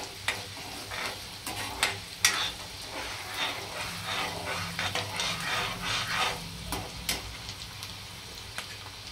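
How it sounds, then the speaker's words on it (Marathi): Finely chopped onion frying in very hot oil, stirred with a spoon: a constant sizzle broken by repeated scraping strokes and clinks against the pan, close and moderately loud. "मी आता त्यामध्ये बारीक चिरून ठेवलेला एक कांदा टाकते। कांदा चांगला परतून घ्यायचा आहे तेलात।"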